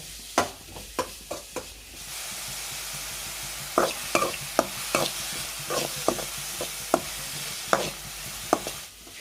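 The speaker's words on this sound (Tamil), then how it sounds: "சேர்த்துட்டு இந்த வெங்காயத்தை வந்து பார்த்திங்கன்னா நல்லா வந்து பார்த்திங்கன்னா வதக்குங்க" Onions with salt sautéing in a pan for a South Indian chicken gravy, a soft steady sizzle with sharp spatula scrapes and clacks that fall irregularly, fairly close, with no talk.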